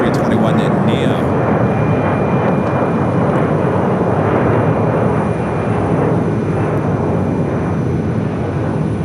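A Delta Airbus A321neo arriving at Phoenix Sky Harbor, a loud continuous jet rumble that holds steady throughout, with voices faintly underneath.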